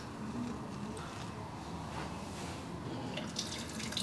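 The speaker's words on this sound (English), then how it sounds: "So I'm going to add the water." Water pours into a cafetiere for coffee as a steady, soft splashing trickle that runs throughout, close by and quiet, with no voices.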